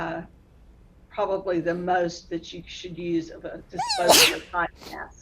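A single sharp sneeze bursts out near the end, loud and close, following a stretch of calm speech about wearing disposable masks in a coronavirus Q&A.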